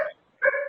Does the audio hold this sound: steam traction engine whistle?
no